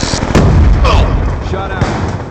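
Gunfire in a shooter video game: a loud, dense burst of booming shots and explosive blasts over continuous rumbling battle noise, with a few sharp cracks and in-game voice callouts mixed in.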